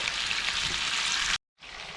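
Steady, close crackling sizzle of crucian carp frying in a hot pan over high heat, cutting out briefly before resuming.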